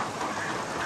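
Broad, steady hiss of rain, fairly loud and unbroken across the moment, with no voices.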